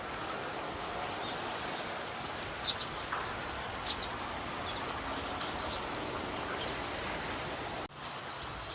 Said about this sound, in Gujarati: એક ધારો વરસાદ ચાલુ હે.